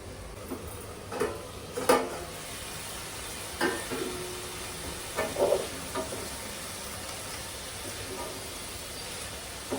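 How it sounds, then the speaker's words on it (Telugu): Onions and drumsticks fry in a pan for a drumstick and milk curry, a soft continuous sizzle broken by scattered spoon scrapes and clinks against the pan. "ఉల్లిపాయలు మధ్యలో ఇవి కలుపుతూ ఉండాలండి, లేకపోతే మాడిపోతాయి."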